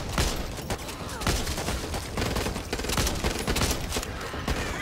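Dense, sustained gunfire from the zombie shooter Back 4 Blood, rapid overlapping shots rattling continuously at close range, with a faint voice underneath.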